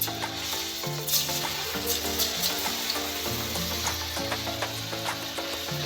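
Chana dal pakoda batter frying in hot oil: a steady crackling sizzle with small popping bursts, continuous under a faint tonal background.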